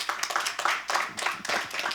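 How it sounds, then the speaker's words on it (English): A crowd applauds steadily, many hands clapping in a dense, continuous burst that fills the whole stretch. "you might give them all a round of applause"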